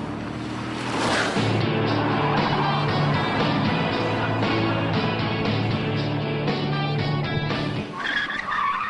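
A Corvette on a race track howls at high revs while its tyres squeal through heavy oversteer, a loud sustained engine drone with shifting pitch that drops away abruptly near the end.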